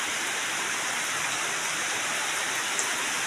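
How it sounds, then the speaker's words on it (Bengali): Heavy monsoon rain pours down steadily onto a balcony in Bangladesh, a dense, unbroken hiss of water that stays even and fairly loud throughout, with no voices. "একবার মুষলধারে বৃষ্টি হচ্ছে।"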